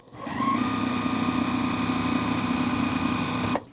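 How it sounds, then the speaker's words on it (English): A sewing machine stitches along the bottom edge of a tote bag with a quarter-inch seam, running continuously for several seconds at a steady hum and whir, starting and stopping cleanly, close up with no voices. "We're just going to take this to the sewing machine and sew right along this bottom edge"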